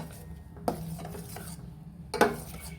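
A spoon stirs almonds, cashews and pistachios through thickening betel leaf payasam in a pot, heard as soft scraping with two sharper metallic knocks against the vessel, fairly quiet and without talk.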